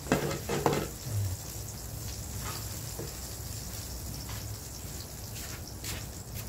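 Food fries in a pan with a steady soft sizzle while occasional scrapes and clinks of stirring come through near the start, at a moderate distance, with no speech.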